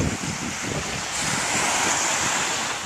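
Waves wash continuously onto an island beach, a broad steady surf roar mixed with wind buffeting the microphone and no voices.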